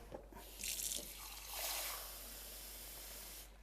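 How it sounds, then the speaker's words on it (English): Water is poured into a cup in a home kitchen. It starts with a few drips, then comes in two short splashing bursts and settles into a softer steady trickle that stops near the end. "And fill up a cup of water."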